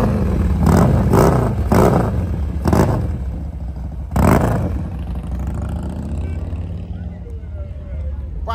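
Motorcycles rumble and rev at a motorcycle club's annual dance event, with several loud engine bursts in the first half over a continuous low idle, and people talking nearby throughout.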